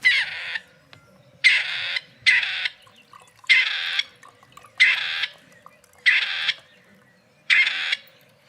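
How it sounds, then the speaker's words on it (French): Grey partridge calling outdoors, a series of seven harsh, grating rasps spaced at roughly one-second intervals, fairly loud and close with quiet gaps between. "Perdrix grise."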